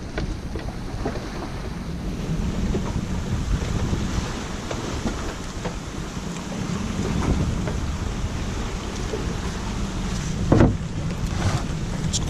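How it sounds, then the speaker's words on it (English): Sailboat running at about seven knots under staysail and trysail in strong wind, light drizzle and waves: continuous wind buffeting and rushing water wash, with occasional knocks and a brief louder thump near the end. "we're doing about 7 knots under our staysail and trysail"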